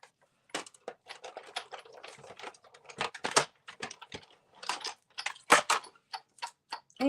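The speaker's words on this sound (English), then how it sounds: "let's die cut a pink banner" A die cutting machine cuts a pink paper banner for card making, giving a close, irregular run of dry clicks and taps with short pauses.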